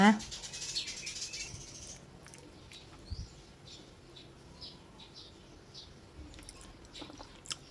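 Close, faint chewing and biting of homemade stuffed radish meatballs with a simple dipping sauce, soft crunchy mouth sounds in short bursts after a brief voice at the start.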